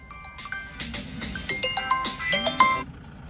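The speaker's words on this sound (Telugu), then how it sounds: "విద్య అయితే ఫోన్ చేస్తుంది" A short electronic phone ringtone melody plays, a run of bright beeping tones repeating over about three seconds at moderate volume.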